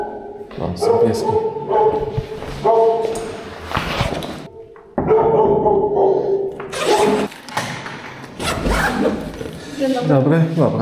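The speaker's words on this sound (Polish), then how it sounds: "No, są pieski." Small dogs bark and yip in an apartment, the barks close and repeated in bursts under steady conversation, with occasional clatter and door sounds.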